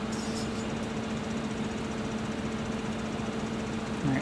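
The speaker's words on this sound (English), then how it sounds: "Love that startup sound. None of the other ones have that kind of, you know, engine revving up diesel sound." A diesel tractor engine in the video game Farming Simulator 15 hums at a steady idle throughout, a low constant drone with a slight rise in revs near the end.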